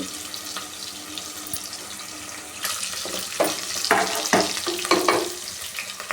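Onions frying in a pan, with a bright, loud sizzle and sputter that swells into crackling bursts as they are stirred; no talking.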